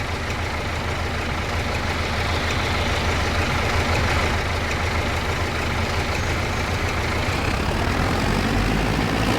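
In Farming Simulator 25, a tractor engine runs with a steady heavy rumble, a continuous low drone that grows slightly stronger near the end, with no speech.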